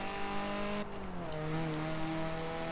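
Ford Escort RS Turbo engine in Forza Horizon 4 droning steadily, then a brief dip and pitch drop at a slow gear change before the revs settle into a lower, continuing hum.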